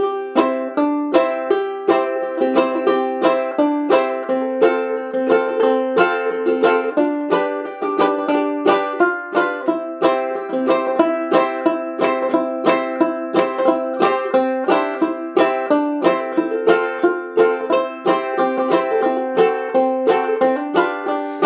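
A banjolele plays Jingle Bells as a bright chord melody with quick, steady thumb strums, dense and continuous with a snappy attack, no voices.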